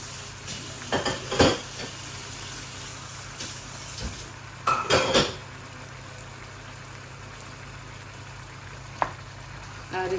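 Minced meat with potato and capsicum frying in a pan, a soft steady sizzle over a low hum, broken by a few short bursts of stirring and utensil clatter.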